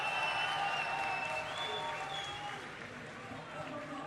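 Audience applause at a live sniper-game esports tournament event, a steady broadband clatter of clapping that fades slightly, with crowd noise and a voice underneath.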